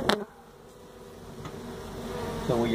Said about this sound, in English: You just want me to get those bees off your face.